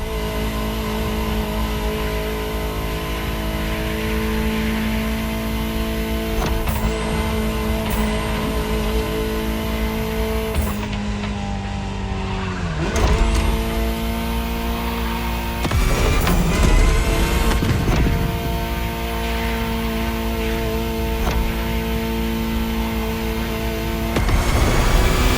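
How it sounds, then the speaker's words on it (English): A Ferrari supercar driving hard, a loud sustained engine tone with rising and falling pitch as it revs and shifts, sharp sweeps and bursts suggesting tire squeal, close and continuous with no talk. "Just listen to the car you're driving."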